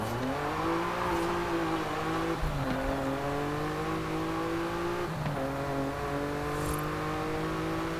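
A Noble M400 supercar in Forza Horizon 5 drives steadily, its engine droning and rising through the gears with brief dips at shifts, loud and continuous with no voices.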